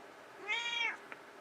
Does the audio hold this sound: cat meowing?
yes